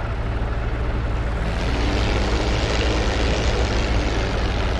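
A P-47 Thunderbolt's propeller engine roars steadily during takeoff in DCS World, a loud, continuous droning rumble that holds throughout with no voices.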